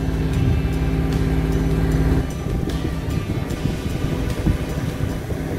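A motorboat motors along the Johann-Friso canal toward Stavoren in calm, windless weather, its engine a steady low drone with water wash and wind rush on the microphone, no talking.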